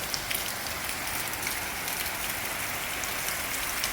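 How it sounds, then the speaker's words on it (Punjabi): A heavy downpour comes after several dry days, and the rain hits surfaces nearby as a thick, unbroken wash of hissing drops. The sound holds level throughout, with nothing else heard. "ਹੁਣ ਮੀਂਹ ਇੱਥੇ ਪਿਆ ਦੱਬ ਮਾ ਪੈ ਗਿਆ"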